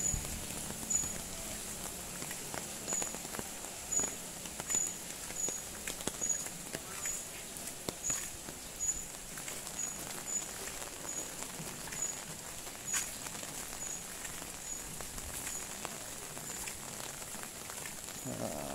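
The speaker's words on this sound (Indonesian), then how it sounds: "Masih hujan." Rain pattering steadily on surfaces on a trip home through a town in Kebumen, a soft continuous patter with scattered drops, fairly faint, with no voices.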